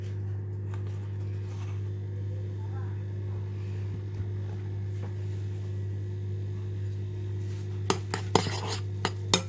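A utensil scrapes and taps in a bowl as cocoa powder is stirred into 400 ml of whipped double cream, quiet under a constant low hum, ending in a few sharp clinks.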